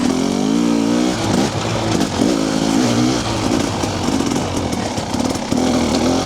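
A TBI motorcycle engine lugging at low revs in a high gear, a loud steady throbbing drone with a deep uneven pulse and slight pitch swells as the throttle shifts, heard continuously up close.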